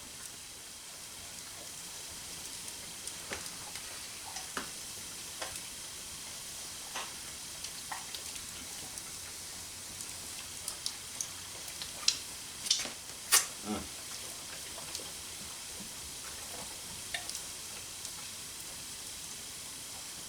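Bacon and eggs sizzle in a cast iron skillet over a hearth fire, a faint steady hiss with scattered pops and crackles, louder spits clustered near the middle, and no voices.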